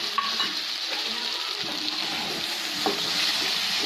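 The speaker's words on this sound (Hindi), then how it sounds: "एक बार इसे चला लेंगे।" Stuffed okra cooking in a pan with lemon juice, stirred once, a steady close sizzle with a few soft scraping strokes and no voices.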